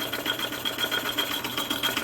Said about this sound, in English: In use, this is a file going up and down